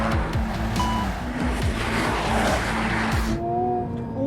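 Car driven hard on a hot lap, engine roaring continuously with rising and falling pitch through gear changes, loud and close, with a brief tyre squeal before the sound cuts near the end.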